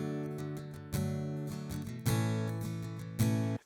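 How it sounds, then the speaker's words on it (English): Acoustic guitar recorded by line-in straight into an interface, its track from a song heard alone: strummed and plucked chords with sharp attacks every second or so, close, dry and bright. "the first one is just a line in of my acoustic straight into my interface"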